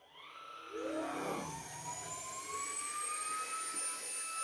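An affordable vacuum cleaner running on high power, sucking wet coffee grounds off carpet: a loud, close motor whine that ramps up and holds steady with rising whistling tones, with no voices.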